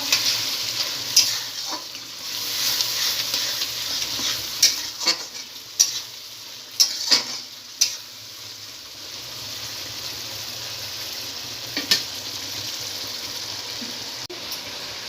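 Masala sautéing in a pan for Bengali chilli chicken, a steady sizzle with repeated stirring scrapes and clinks, close and fairly loud, with no talking.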